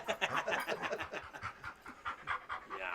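Dog panting at a backyard party, a rapid, steady run of close breathy huffs filling the whole stretch, with faint voices nearby.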